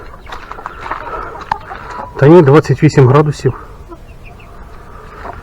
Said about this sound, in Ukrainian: Наші курчата вже доїдають і зараз ми подивимося.